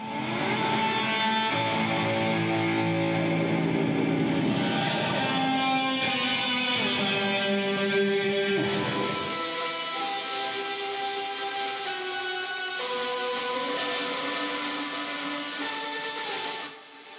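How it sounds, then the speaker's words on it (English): A thick, gritty baritone electric guitar with dense sustained chords and low rumbling notes, a second layered part joining midway, loud and continuous with no voices. "We used a baritone guitar for that actually, as it got a much thicker sound to it."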